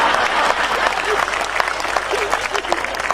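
Loud audience applause at a Hindi stand-up comedy show about marriage, dense steady clapping from a crowd with occasional voices mixed in.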